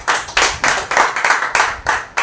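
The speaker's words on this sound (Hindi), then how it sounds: "एक जोरदार ताली बजाए परमेश्वर के लिए।" Church congregation at a Wednesday service clapping in unison, about seven strong, evenly spaced claps in a steady rhythm, loud and close with no voices over them.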